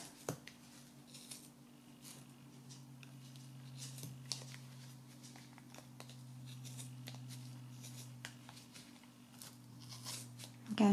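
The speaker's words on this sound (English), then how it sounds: "this is why the sharper the scissors, the better, really." Sharp scissors snip through yarn wound on a Clover pom pom maker, a string of quiet, close crisp cuts in an uneven rhythm over a low steady hum.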